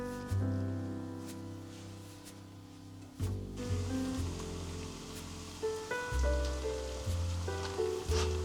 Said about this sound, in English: Put the empty pan on the stove and fry the bread.